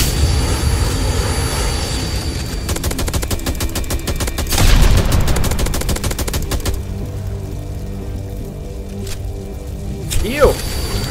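Rapid, continuous gunfire in a SpongeBob Plankton video game rattles on for several seconds, with dense bursts and a loud blast near the middle, fading to scattered shots, while a voice talks over it.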